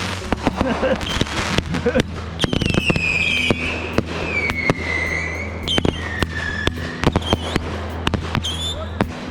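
Fireworks at a backyard show going off in rapid succession, with sharp loud bangs, crackling bursts and whistling launches overlapping for several seconds, while people shout and cheer nearby.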